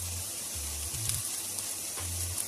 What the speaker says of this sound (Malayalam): ഇനി ഈ സവാള നന്നായി വഴറ്റിയിട്ട് കാണിക്കാം